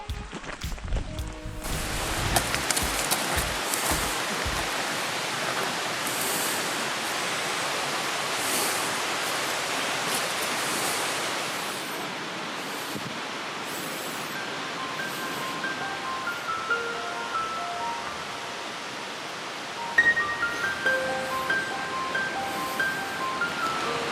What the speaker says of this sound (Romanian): Rinca este o cascadă din Valea Logar, în municipiul Solcava, din nordul Sloveniei.